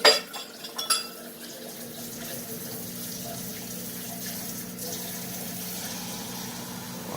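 Tap water runs steadily into a kitchen sink while an avocado is rinsed under it, a constant close hiss after a few sharp clinks of dishes at the start.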